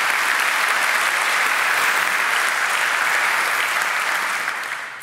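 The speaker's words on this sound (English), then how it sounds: "I think that deserves another round of applause" Sustained applause from a conference audience after a talk, a dense even wash of many hands clapping that fills the hall steadily and tapers slightly at the end.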